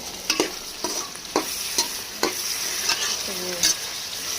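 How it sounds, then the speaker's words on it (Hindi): Chopped tomatoes fry with okra in a hot pan under a steady sizzle, while a spoon scrapes and stirs at regular intervals, each stroke a sharp clack rising above the frying, close by. "तो अब इसमें हम डालेंगे अपने 2 अदद टमाटर। टमाटर डाल के इसे फ्राई करेंगे।"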